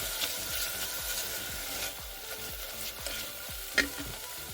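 A spoon stirs lemon juice into a sauce in an Instant Pot, with repeated scraping strokes at a steady rhythm close up over a faint background hiss.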